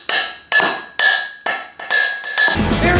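Solid steel dumbbell plates take a run of heavy metallic blows, about seven sharp ringing strikes at a steady beat, then a denser clanging crash, loud and close with no talk.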